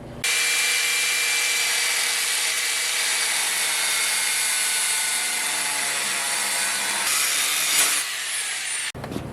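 A power tool cuts steadily through the sheet-metal body panel of a wrecked car, a loud continuous grinding rasp that runs without pause for about eight seconds before cutting out near the end.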